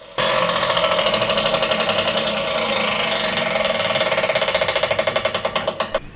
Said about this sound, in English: I used my meter saw to cut one side